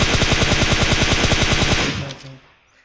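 Rapid automatic gunfire in PUBG Mobile, a loud, evenly spaced burst of about two dozen shots that stops abruptly and leaves a brief fading echo.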